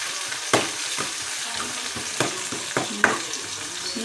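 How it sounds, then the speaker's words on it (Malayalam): Shallots sizzle in hot oil in a pan while a spoon stirs them, with a continuous close frying hiss broken by three or four distinct knocks and scrapes against the pan. "നമുക്കൊന്ന് ഇളക്കി കൊടുക്കാവേ."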